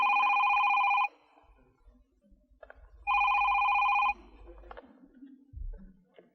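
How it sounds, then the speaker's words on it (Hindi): A mobile phone rings in two loud electronic bursts about two seconds apart, each lasting roughly a second, followed by quiet room noise and a soft low thump. "एक्सक्यूज मी, मेरा फ़ोन है।"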